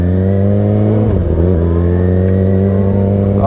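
A 450 dirt bike engine holds a steady, loud idle with a rich harmonic drone, dipping briefly in a short wobble before settling back to an even, close-up rumble.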